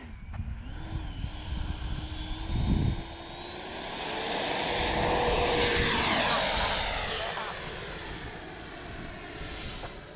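A small 90mm ducted-fan jet engine on a Freewing Valkyrie RC model plane whines steadily, its pitch rising then falling as the plane passes by, loud at mid-flight before easing away.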